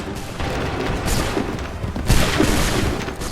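In Assassin's Creed III, massed musket volleys crack out in two loud, broad bursts about a second apart over a steady battlefield rumble.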